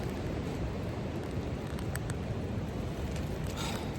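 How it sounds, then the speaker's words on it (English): Strong wind gusting across a sloped mountain campsite on the Appalachian Trail amid sleet and hail, a loud, continuous roar buffeting the microphone with no speech. "You all can see the wind blowing."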